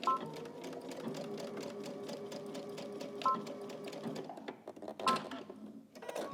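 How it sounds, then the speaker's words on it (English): A sewing machine stitches fabric pieces together for a dressmaking pattern, running in a steady rapid clatter for several seconds before slowing into short stop-start bursts, close and moderately quiet, with no talking. "So let's head to the machine, go ahead and stitch this together."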